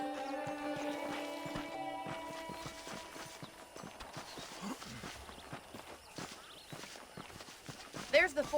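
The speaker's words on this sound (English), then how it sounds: "The horses are saddled up over here." Horses in the video game Red Dead Redemption clip-clop in a steady run of hoof falls. Sustained tones play at the start, and the rhythmic hoof beats grow clearer as they go on.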